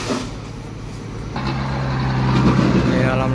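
Box truck being pulled by a tow truck during a recovery operation, a steady diesel engine drone that builds gradually louder, with a faint voice briefly in the background.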